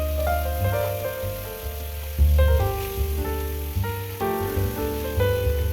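Coral fish frying in oil gives a soft, continuous sizzle with light crackling, heard beneath louder tonal background music that runs throughout.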